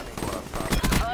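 M8A7 rifle firing a short burst in Call of Duty Black Ops 3, a few rapid cracks close together under game noise and a voice talking.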